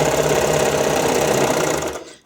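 A serger sewing machine stitches the front edge of fabric skate covers, a loud, steady, rapid mechanical whir that runs for about two seconds and then stops abruptly.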